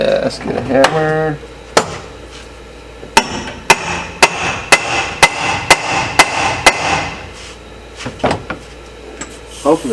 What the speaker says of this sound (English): Yeah, let's get a hammer.